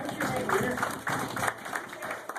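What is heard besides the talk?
audience applause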